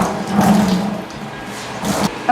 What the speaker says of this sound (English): now we're going to be draining the tank and the toilet